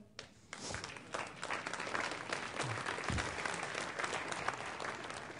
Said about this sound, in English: Bill's clapping